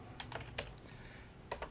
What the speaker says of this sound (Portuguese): E o meu teclado afunda na hora que eu aperto aqui